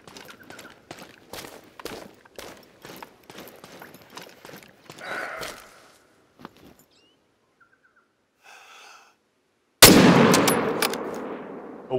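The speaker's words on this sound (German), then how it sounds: "das ist ein guter Schuss" A rifle shot in the hunting game The Hunter: Call of the Wild, set in Patagonia during a mule deer hunt, booms out sharply and loud, then decays into a long rumbling echo, after quieter footsteps and rustling.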